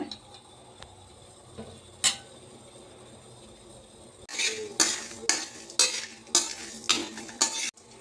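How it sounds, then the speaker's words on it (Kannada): Black pepper and cumin seeds are dry roasted together in a pan, with a faint continuous rustle followed by a run of sharp, rhythmic scraping and stirring strokes against the metal. "1 ಸ್ಪೂನಷ್ಟು ಮೆಣಸು, 2 ಸ್ಪೂನಷ್ಟು ಜೀರಿಗೆ, ಇವೆರಡೂ ಮಿಕ್ಸ್ ಮಾಡಿಬಿಟ್ಟು ಹುರ್ಕೊತೀನಿ"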